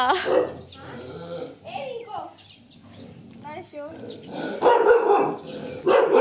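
A village dog barks at arriving visitors, several sharp barks mixed with excited talk nearby, with birds faintly calling in the background.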